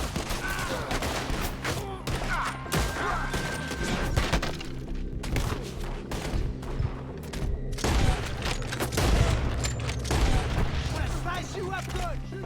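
Repeated gunfire rings out through a Red Dead Redemption 2 shootout, the shots coming in dense bursts against a continuous layer of loud game sound, with shouted voices cutting in between the shots.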